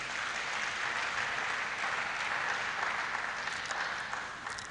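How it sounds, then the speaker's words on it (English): An audience at a live youth development event applauds steadily for several seconds, a dense, even wash of clapping with no voices over it. "Can we give ourselves a round of applause"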